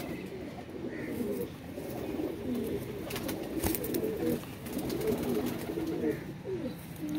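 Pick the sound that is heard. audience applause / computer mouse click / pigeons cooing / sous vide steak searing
pigeons cooing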